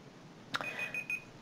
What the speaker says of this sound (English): Oops, there's my timer.